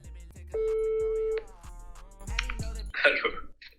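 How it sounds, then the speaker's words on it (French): A phone call placed live, with a steady electronic ringback tone held for about a second, then clicks and handling noise before a brighter burst as the line connects. "J'appelle Silka en live"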